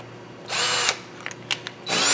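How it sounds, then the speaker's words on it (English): A handheld power drill spins a valve fitted with cutters, starting with a whirring burst, then short taps and blips, then revving up again, close and loud with no talking. "I'm just going to operate the drill holding this"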